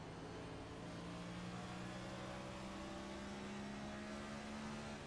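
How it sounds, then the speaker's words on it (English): A Richmond oval race car, number 98, runs at a steady, sustained engine drone from onboard, its pitch holding fairly even with only slight rises and falls, loud and continuous throughout. "Let's ride on board with that 98 car"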